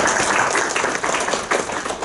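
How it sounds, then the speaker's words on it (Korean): Audience at a Korean tax research forum's winter academic conference applauds a presenter being introduced, a dense, steady patter of many hands clapping at moderate distance. "박수 부탁드리겠습니다."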